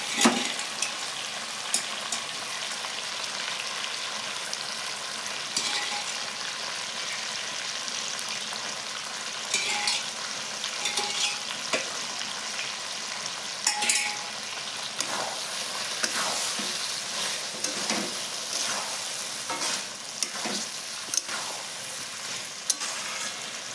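Boiled dried peas are added to chicken frying in its own oil for chicken ghugni, then stirred in a pan, with a steady soft sizzle broken by scattered spoon scrapes and clinks, close up without speech.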